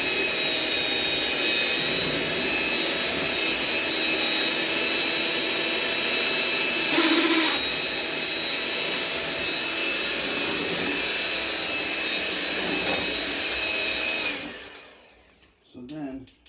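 An electric mixer whips super cold heavy cream in a chilled bowl, a loud, steady, close whirring drone that runs unbroken for about fourteen seconds before cutting out.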